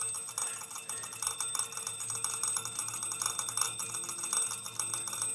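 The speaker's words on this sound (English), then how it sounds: "if I activate the bell now" An early electric alarm clock's bell rings steadily and continuously throughout, a fairly calm, close, metallic jangle with no talking over it.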